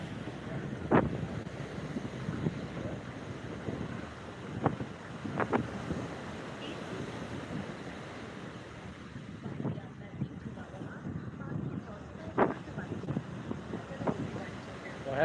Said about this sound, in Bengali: সেই গার্ডওয়াল ছুঁই ছুঁই জলোচ্ছ্বাস সেটা দেখতে থাকো